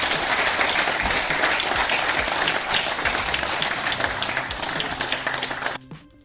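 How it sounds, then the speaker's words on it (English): Thunderous applause from a crowd, dense and loud clapping that carries on steadily for several seconds before cutting off abruptly near the end. "Thunderous applause."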